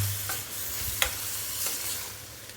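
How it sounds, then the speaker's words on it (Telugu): Raw prawns sizzle in a pan for curry while a spoon stirs them, giving a steady close frying hiss with about three brief scraping stirs, and no voices. "ఇప్పుడు మనం పచ్చి రొయ్యలు వేసుకుందాం. ఒకసారి అంతా కలుపుకుందాం."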